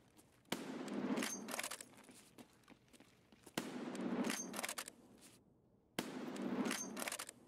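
Gunfire in the Escape From Tarkov video game comes in three loud bursts of rapid automatic shots, each lasting a couple of seconds and separated by short pauses.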